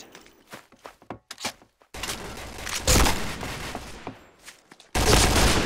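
Bursts of rapid gunfire from the shooter game Point Blank, first as scattered sharp shots, then as a dense fusillade and a loud sustained barrage near the end, with no voices.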